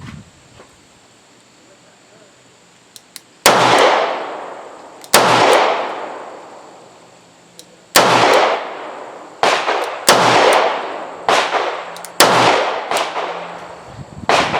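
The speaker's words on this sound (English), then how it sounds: "It's a Smith Wesson model 642-1, and we'll see how it shoots." A Smith & Wesson 642-1 .38 Special revolver firing 158-grain jacketed hollow point rounds at a shooting range, with seven loud, sharp reports spaced a second or two apart, each ringing out with a decaying tail.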